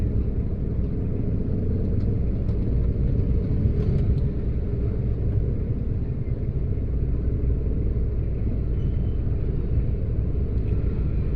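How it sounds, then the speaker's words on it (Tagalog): Road traffic in a steady, low, rumbling drone of car engines and tyres, continuous and fairly loud with no talk. "Ganito ka-traffic siya."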